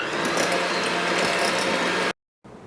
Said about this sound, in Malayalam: ഇനി ഇതും നന്നായിട്ടൊന്ന് ബീറ്റ് ചെയ്തെടുക്കാം.